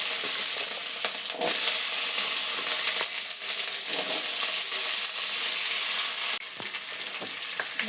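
Small shallots dropped into hot oil in a pan, a steady loud sizzle and hiss with occasional scraping stirs and a brief clink, continuous throughout.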